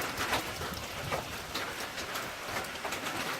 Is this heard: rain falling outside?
yes